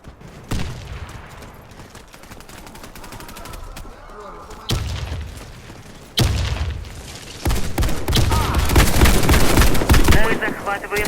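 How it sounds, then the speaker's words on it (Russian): A grenade explodes amid gunfire during a team battle in a video game. Booming blasts and rattling bursts of shots grow louder and denser over the clip, with shouted voices underneath. "Кидаю гранату!"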